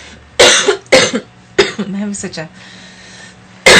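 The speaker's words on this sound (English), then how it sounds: "You got a cough?" A person coughs during a spoken conversation about vision quests: a few sharp, close coughs with a short spoken phrase between them, then another abrupt cough at the very end.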